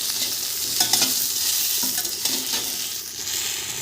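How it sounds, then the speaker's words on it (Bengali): Jujube fruit (kul) fries in a pan with a loud, continuous sizzle and repeated scraping stirs of a utensil against the metal, heard close with no speech. "এক থেকে 2 মিনিট কুলটা ভেজে নেব।"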